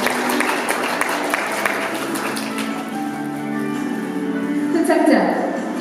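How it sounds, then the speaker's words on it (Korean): At a district volunteer day ceremony, an audience claps for award winners, a steady patter of applause that softens midway as a voice speaks over it near the end. "여러분 뜨거운 박수 부탁드리겠습니다."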